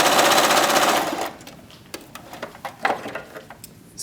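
A sewing machine stitching a dart on a fabric hand puppet runs in a loud, steady close burst for about a second, then stops, followed by faint handling clicks and fabric rustles.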